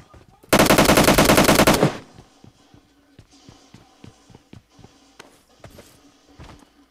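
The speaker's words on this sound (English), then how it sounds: "Now who's shooting at us?" A PUBG Mobile match where a loud, rapid burst of automatic gunfire rattles for over a second, then gives way to quieter, irregular footsteps and faint distant shots.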